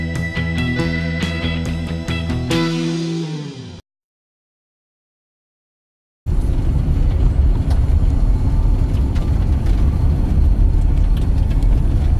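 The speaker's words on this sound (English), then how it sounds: "Just driving around, basically" A car drives along a road, its steady broadband engine and road rumble loud and continuous for the last six seconds, after a short tonal passage and a brief silence.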